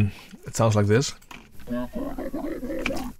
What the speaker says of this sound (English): I transposed the original vocal an octave down and added that in